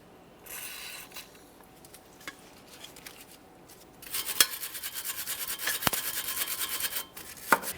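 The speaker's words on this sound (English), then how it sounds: "I'm going to use some penetrant, and I'm also going to use a wire brush." Wire brush scrubbing rust from the threaded stud of a sway bar link on a 2015-2019 Subaru Outback front strut, a faint rub at first, then dense rapid rasping strokes close up.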